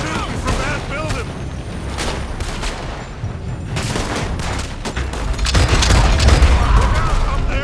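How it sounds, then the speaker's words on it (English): Gunfire rattles through a Red Dead Redemption 2 shootout in a town, with scattered shots from a building and a louder burst of fire near the end, mixed with voices and game ambience. "They're shooting from that building."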